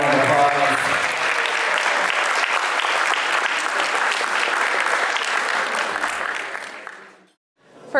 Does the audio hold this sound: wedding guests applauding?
yes